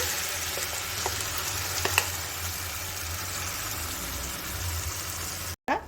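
Carrot paste sizzles and fries in melted ghee in a pan, a steady close crackle with occasional stirring clinks and a faint low hum beneath, with no voices.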